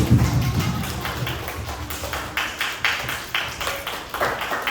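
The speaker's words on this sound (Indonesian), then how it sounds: "Tepuk tangan dong untuk adik-adik sendiri" A group of children claps in an uneven patter of overlapping hand claps, steady and fairly close, with no one speaking.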